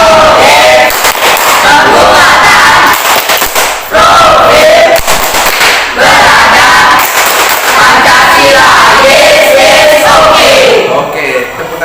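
A classroom of seventh-grade students performs the P5 rhythmic clap, a loud, dense burst of group clapping mixed with chanting voices that runs continuously for the whole stretch.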